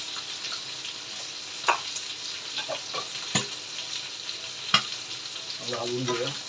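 Green peas with garlic and ginger-garlic paste for a green gravy masala are stirred in a hot pan, giving a steady sizzle broken by several sharp spoon scrapes against the metal, close up with no talking.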